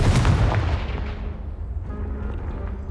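A Confringo blasting spell bursts against a piled-up obstruction in the Hogwarts Legacy video game: one loud, close, booming explosion whose rumble fades away over a few seconds, with no voices.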